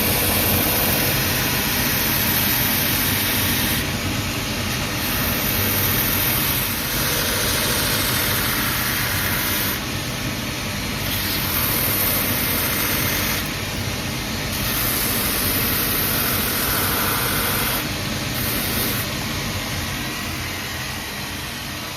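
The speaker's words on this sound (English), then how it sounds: "We're going to just machine the top of the stitching off." A machine trims the top of the welt stitching off a Joseph Cheaney Scott R Green shoe sole during a Vibram sole conversion, a steady loud grinding whir running the whole time with slight surges and no talk.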